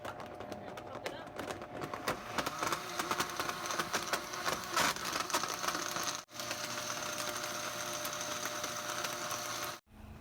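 A blender whirring bananas and soy milk into a chocolate plant-based milkshake, starting with uneven chopping and rattling, then settling into a steadier drone, with two brief cut-offs as the speed changes.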